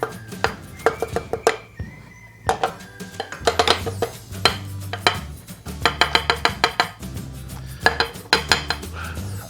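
Cookie dough for cream cheese chocolate chip cookies being mixed in a bowl as flour and baking powder go in: a rapid, steady run of loud clattering and scraping strikes against the bowl, close and continuous with only brief pauses.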